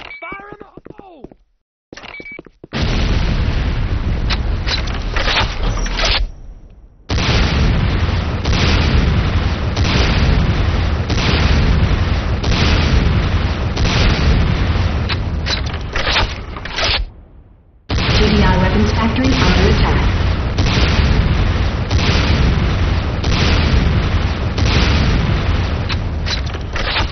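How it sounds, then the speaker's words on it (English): C4 charges blowing up a GDI weapons factory in a video game: a long run of heavy booms and blasts, loud and near, broken by a few silent gaps, with in-game voices speaking at times. "C4 is set. Fire in the hole."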